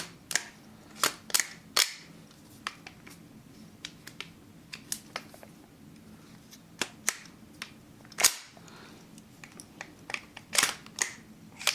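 A BOLBR TWS-9 gas blowback gel blaster fires a series of sharp, separate cracks with irregular gaps, and its bolt clacks back and locks open on empty. The shots are close and loud, with no talk.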